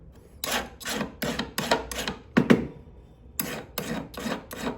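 A hand file rasps against the sides of a jewelry ring in a row of short, rhythmic back-and-forth strokes, close and clear, with a brief pause partway through and no talking.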